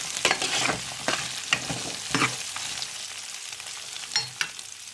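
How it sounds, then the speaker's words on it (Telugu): Drumstick pieces fried in oil with ginger-garlic paste, with a steady sizzle broken by repeated scraping strokes of a spoon stirring the pan, close and moderately loud, no talking. "ములక్కాడ ముక్కలు చక్కగా ఫ్రై అయిన ఆయిల్లో అల్లం వెల్లుల్లి పేస్ట్"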